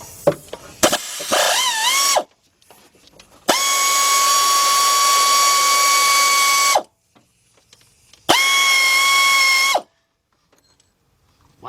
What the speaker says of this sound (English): I'm gonna get my shallow 15 millimeter 3/8 drive with my air ratchet.